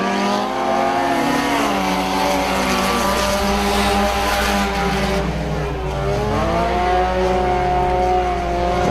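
Race cars in a dirt-track heat race at County Line Raceway roar continuously, several engines layered with rising and falling pitch as they sweep past, loud and sustained throughout.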